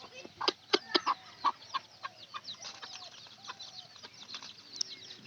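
Chickens being called to feed on corn cluck repeatedly in a bright, busy cluster that thins into scattered softer calls, close by and moderately quiet, with no talking.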